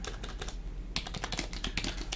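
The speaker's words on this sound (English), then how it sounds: "A tab, and I can start typing" Keys clatter on a computer keyboard in quick, uneven bursts of close, crisp clicks that grow busier partway through, with no talking.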